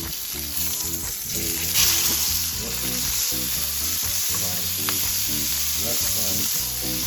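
Sea bass fries in a pan with a loud, constant sizzle and crackle up close, over a soft musical background.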